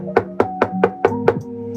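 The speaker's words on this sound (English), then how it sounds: "It's knocking." Six loud, evenly spaced knocks land in quick succession close by, each a sharp thud that rings out briefly over a sustained tonal hum.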